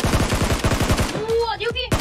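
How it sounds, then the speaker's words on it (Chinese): Rapid automatic gunfire erupts in a video game, a dense burst of close, punchy shots lasting about a second, followed by a few tonal game sounds and a final shot. "这边怎么还有个枪声？"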